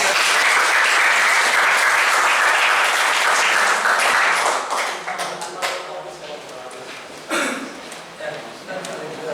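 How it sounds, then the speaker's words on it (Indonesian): Classroom applause for classmates, a dense burst of clapping that fades after a few seconds into scattered claps with voices talking over it. "Oke, tepuk tangan buat teman-teman."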